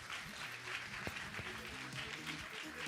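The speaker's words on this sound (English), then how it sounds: "would you please put a big round of applause, including on YouTube, our speakers, Francis, Shannon, and Bill." Audience applause for a panel of speakers at the close of a conference discussion, steady broadband clapping sustained at moderate distance throughout with no talk over it.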